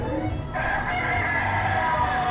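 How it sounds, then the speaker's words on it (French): A pressed rooster decoration at Parc Asterix crows a loud, continuous electronic cock-a-doodle-doo, steady and close, with no talk over it. "pour faire chanter le coq, il faut presser."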